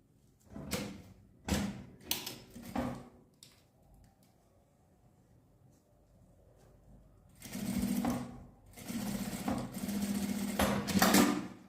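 Sewing machine stitching bias binding onto the zipper edge of a small pouch: a few short stitching bursts, then a quiet pause and a longer steady run, close up.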